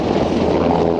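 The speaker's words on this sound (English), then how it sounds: "you can hear the helicopter" Helicopter flying near the peak of Snowdon on a windy mountain day, its engine and rotor making a loud, steady, close roar mixed with wind rush.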